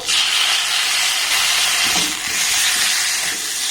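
A small blended tomato goes into a hot pan and sets off a loud, continuous hissing sizzle that holds steady for several seconds, close and without any voices.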